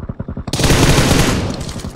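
Rapid automatic gunfire rings out in the mobile battle royale game BGMI, a short burst of close, loud shots that blends into a dense continuous rattle.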